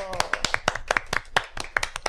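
A small group claps in a quick, uneven burst of sharp, close hand claps for a Brazilian education podcast episode, with a speaking voice running over the claps.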